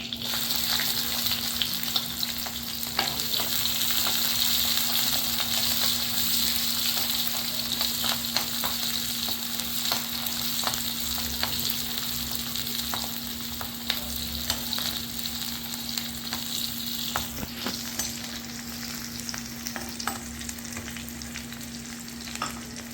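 Onions and curry leaves sizzle steadily as they sauté in a pan for a spleen fry, a constant close frying hiss with scattered crackles and occasional stirring scrapes, no voices over it, plus a faint steady hum underneath.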